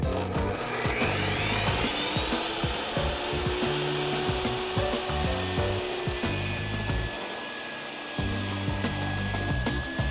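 A table saw rips a board of wood to width, a steady loud grinding cut running for the whole stretch with rough, rasping texture and no voices.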